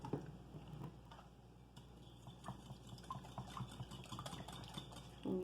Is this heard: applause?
no